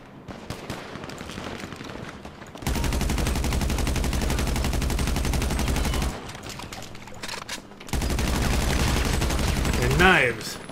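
Shotgun fire in GTA 5 Online, with sustained bursts of rapid blasts in two long loud stretches separated by a short pause, plus scattered shots and game sounds at the start.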